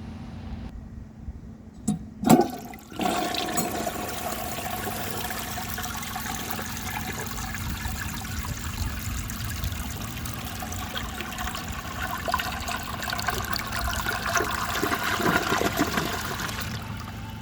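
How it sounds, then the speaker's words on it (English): A 1957 Gerber Mt Vernon toilet flushes with a sharp handle clunk, then a loud, sustained rushing and gurgling swirl of water that continues steadily close to the microphone. "So anyway, I will show you guys a flush"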